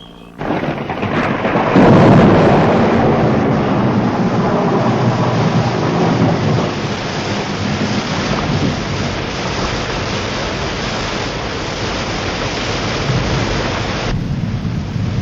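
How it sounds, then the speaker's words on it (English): A heavy thunderstorm roars with dense, steady rain and a deep rolling thunder swell early on, loud and continuous throughout. "Listen, Joe, it's starting to rain."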